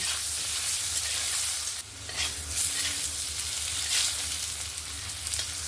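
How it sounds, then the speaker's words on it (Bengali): Potato pieces sizzle steadily in hot oil seasoned with salt and turmeric, a continuous close frying hiss broken by a brief stirring scrape partway through. "আলুগুলোকে উল্টে পাল্টে সুন্দর লাল লাল করে একদম ভেজে নিয়েছি।"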